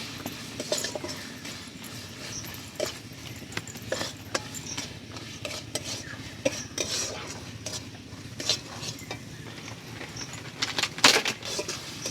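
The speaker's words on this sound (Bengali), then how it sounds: "মশলাটা আমার ভাজা হয়ে গেছে" Spices with chilli powder fry in a pan with a steady sizzle and frequent clinks and scrapes of a utensil stirring, continuous and close, no talking.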